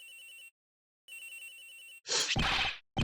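A cell phone rings in the Ace Attorney Investigations video game, two bursts of a bright, buzzing electronic ring separated by a short pause, followed by loud noisy game sound effects.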